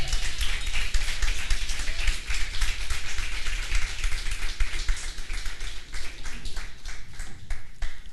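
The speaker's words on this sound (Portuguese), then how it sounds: "pode aplaudir o Senhor" Congregation in a church applauding together, a dense, steady wash of many hands clapping at close range with no voices over it, holding at an even level throughout.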